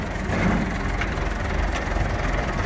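A tractor engine runs steadily at low speed in Rioverde, San Luis Potosí, Mexico, giving a loud, continuous rumbling drone with no break and no voices.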